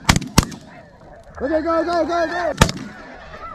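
Spring snow geese on an Alberta goose hunt honk in a brief, clamoring chorus of harmonic calls, bracketed by loud, sharp shotgun blasts before and after, with a short shout just before the shots.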